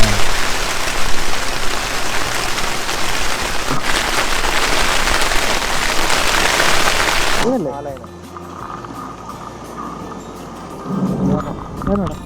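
Heavy rain pounding down at a campsite with tents, a dense loud roar of drops that drops away partway through, with people talking over it.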